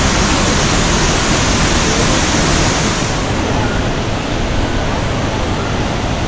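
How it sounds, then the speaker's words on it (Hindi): Devi's Fall waterfall in Pokhara, Nepal, fills the air with a steady, dense rushing roar of falling water, loud and unbroken throughout, with no voices. "ज़्यादा बड़ा वैसे भी नहीं है ये वाटरफॉल"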